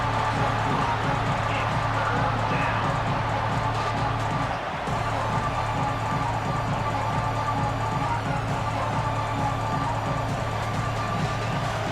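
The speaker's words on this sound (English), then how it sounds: "here comes the noise. This crowd is trying to inspire this defense" A dense, steady roar of video game stadium crowd noise from College Football 26 (Penn State vs Notre Dame) fills the whole stretch, with a constant low hum underneath and no clear pauses.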